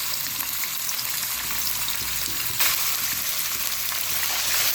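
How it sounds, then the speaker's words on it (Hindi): Chicken fries in hot cooking oil in an already heated kadhai, giving a loud, close, unbroken sizzle and crackle, with no talking. "अब कुकिंग ऑयल मैं इसमें और ऐड कर रही हूँ, ठीक है। कढ़ाई ऑलरेडी गर्म थी है, तो सबसे पहले मैं जो चिकन है वो इसके अंदर डालूंगी।"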